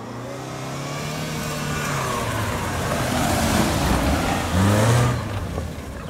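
A supercharged car engine revving, the pitch rising and falling in drawn-out sweeps with a louder surge near the end, close and loud.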